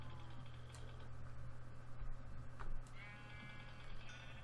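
A sheep in the video game Minecraft bleats faintly over a steady low hum and background game noise, with no talking.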